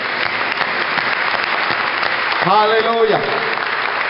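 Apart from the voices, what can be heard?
church congregation applauding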